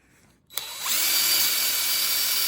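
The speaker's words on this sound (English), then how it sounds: "Drill this baby out." A power drill starts up with a sharp click and spins into a steady, high whining grind as it bores into hot metal on a Honda CL350/CB350 motorcycle, loud and close.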